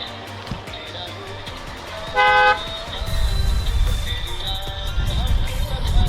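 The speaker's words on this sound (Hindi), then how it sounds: "यहाँ का भी ट्रैफिक जाम है" A single short car horn blast sounds loudly in a traffic jam on a road in Shimla, Himachal Pradesh. Engine rumble and street noise continue around it.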